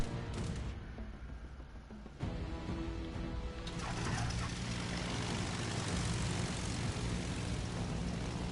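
Bomber aircraft engines drone loud and continuous in World of Warships Legends, a dense propeller roar that swells slightly after the first couple of seconds and holds steady throughout, with no talk.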